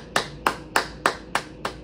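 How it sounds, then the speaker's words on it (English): Six single hand claps from one person, evenly spaced and sharp, close and crisp with brief decays, slowing very slightly toward the end; no voices. "I got to give you a round of applause."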